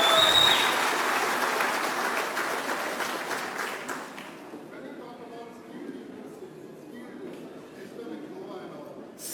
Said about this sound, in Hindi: जब मैं बोल रहा था सब ताली बजा रहे थे।